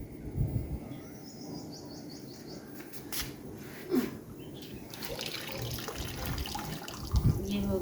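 Tap water runs steadily into a basin at a home sink where feet are being washed, a close continuous splashing stream with a few louder clunks and splashes, while someone talks over it.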